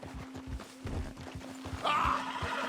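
A horse in the video game Red Dead Redemption 2 snorts and shuffles nearby, then lets out a high, shrill whinny near the end over a steady low hum.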